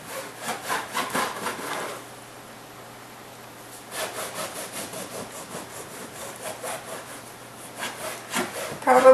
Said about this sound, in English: The next part is to slice your bread.